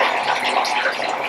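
Water splashes and sloshes steadily in a birth tub during labor, a continuous close wash of watery noise with no talking.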